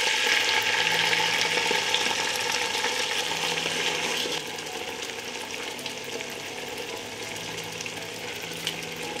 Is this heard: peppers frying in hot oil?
yes